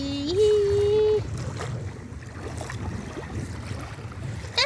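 A boat moves across open water with a steady rush of water and wind noise, opening with a short rising motor or whine that cuts out after about a second, leaving the continuous wash.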